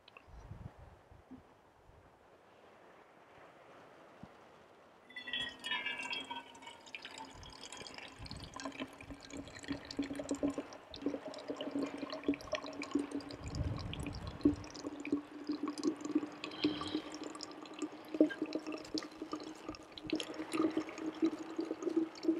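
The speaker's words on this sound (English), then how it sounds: "we'll pour some coffee into the thermos." Coffee poured from a Stanley Mountain Vacuum Coffee System into a Stanley vacuum thermos outdoors, a steady liquid stream with rising filling tone beginning after a few seconds of wind, continuing close and moderately loud.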